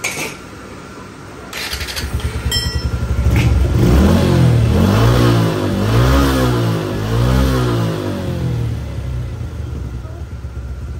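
A Suzuki Gixxer FI motorcycle engine, recently worked on for engine noise, idles and then revs up loudly and close, the pitch climbing and falling through several throttle pulls before settling back, with a voice talking briefly.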